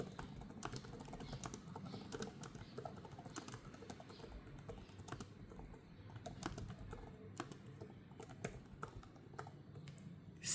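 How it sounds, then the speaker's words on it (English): Typing on a Microsoft Surface Pro keyboard with a Qualcomm SQ3 chip, a steady run of quiet, close key clicks at an uneven pace over faint background noise, with no talking. "So let's type together something."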